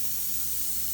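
A spray gun lays down black solvent base coat on a motorcycle panel in a plastic-sheeted booth, a steady close airy hiss running unbroken over a low mechanical hum.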